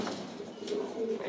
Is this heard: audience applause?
no